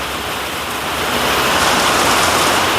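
Heavy rain falling steadily at Khandala in the hills near Mumbai, a dense continuous hiss that swells slightly louder partway through, with no voices.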